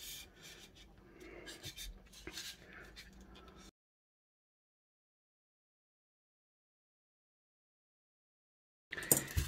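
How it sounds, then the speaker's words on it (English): A line is drawn along the back and side of a homemade head-size wig hat block, producing soft, continuous scratchy rubbing strokes for a few seconds, followed by silence and a brief noisy burst at the end. "what we're going to do is we're going to draw a line"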